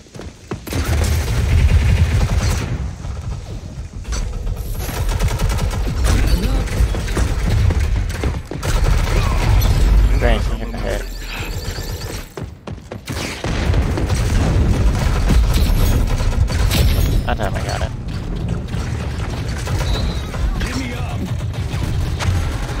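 Pistol fire in the video game Rogue Company, loud and dense bursts of shots and booms running through nearly the whole stretch, with brief lulls, under a voice talking now and then.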